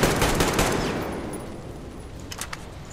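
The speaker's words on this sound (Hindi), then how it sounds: "6 गोलियां मारी मैंने" Gunfire aimed at an enemy in the video game Metro Exodus: a loud burst of rapid shots opens the stretch, then fades into a decaying rumble with a few faint later cracks.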